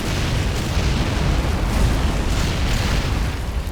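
Artillery shell explosions in the WWII strategy game Men of War: Assault Squad 2 form a dense, continuous roar of overlapping blasts and rumbling booms, loud and steady throughout with no talk.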